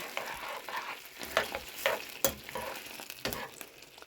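Chili heats in a single pot, a faint sizzle and frying crackle with occasional stirring scrapes and soft clinks, close but quiet, with no talking.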